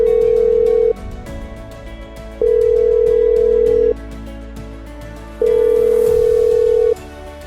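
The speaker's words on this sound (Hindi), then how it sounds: "अभी फोन मिला रहे हैं हम।" A telephone ringback tone on a call placed during a televised quiz show sounds three times as loud steady beeps, each about a second and a half long, with quieter line noise in the gaps.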